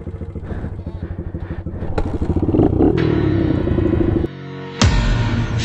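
An XR100 mini-bike motorcycle engine at a kart track, close and loud, putters rhythmically and then revs up into a sustained buzz, with a brief drop and a sharp burst.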